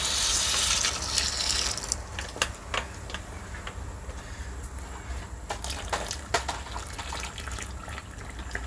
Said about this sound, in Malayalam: നമ്മൾ ശർക്കര പാവ് കാച്ചി ഒഴിക്കുക